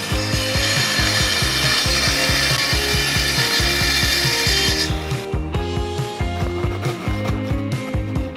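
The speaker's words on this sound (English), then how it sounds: "I just used my Japanese pull saw to cut the remainder of the material" A Japanese pull saw cuts through wood in quick, even rhythmic strokes, loud and close, with the rasping texture changing partway through as the cut nears completion.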